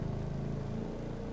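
Exhaust of a Bugatti La Voiture Noire in The Crew 2 racing game, a steady low engine drone with a hex exhaust, loud and continuous throughout without any talking.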